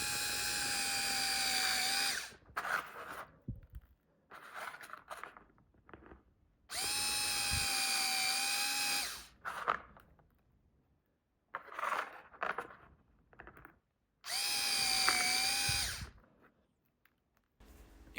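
A hand drill fitted with a screwdriver head whirs in three short high-pitched bursts while enlarging mounting holes for a rack tower, separated by quieter clicks and handling noises, close and alone.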